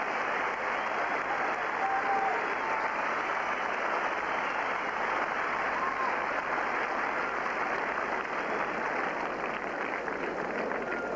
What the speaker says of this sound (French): écoutez les clameurs de la foule